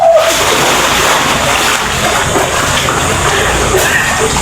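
Water splashes and sloshes in cold spring water at Silver Spring, a loud, continuous churning wash close to the listener.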